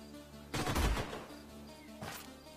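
A short burst of gunfire in the sci-fi strategy game Age of Wonders: Planetfall, one loud rattling volley followed by a fainter second shot, alone without talk.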